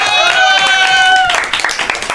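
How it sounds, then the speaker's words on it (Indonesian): A classroom of students claps during a microteaching lesson. A brief tonal voice comes first, then a short burst of quick, overlapping claps. "Tepuk tangan dulu."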